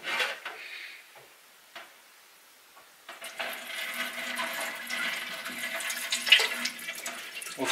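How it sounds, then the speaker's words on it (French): Salmon roe rinsed under clear cold water: a brief trickle, a quiet pause with faint clinks, then a steady splashing stream of water running at moderate loudness. "rinçage à l'eau claire des œufs pour éliminer le reste des parties de membrane qui sont passées à travers le tamis"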